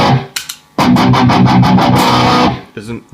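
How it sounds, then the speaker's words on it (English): Electric guitar in drop B tuning played through an amp with a compressor pedal: a quick run of rhythmic, fairly loud chugging strums, with brief voice-like sounds around it. "what you hear now is the amp alone with the compressor"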